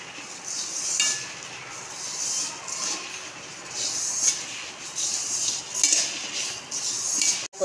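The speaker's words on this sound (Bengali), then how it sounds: "এর মধ্যে এবার চিনি দিয়ে আমি মাখবো" Sugar is worked into grated coconut by hand in a bowl for a sweet filling, producing close, steady rubbing and scraping with gritty swishes and occasional light knocks against the dish, no talking.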